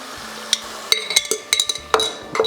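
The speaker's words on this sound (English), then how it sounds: "So now I'm going to add the beans, which is these queen butter beans that I've used before." Queen butter beans tipped into a casserole pan while cooking a monkfish and mixed bean casserole, heard as a string of sharp clinks, knocks and soft spoon-stirring sounds in close succession with no talking.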